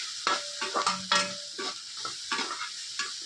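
Leftover idli upma with salt and turmeric is stirred in a pan with a utensil, making a run of scraping, rhythmic stirring strokes over a soft sizzle.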